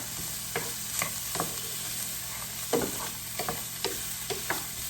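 Onions cooking in a pan on medium-high heat, a continuous close sizzle punctuated by several short scraping stirs of a utensil, no talk.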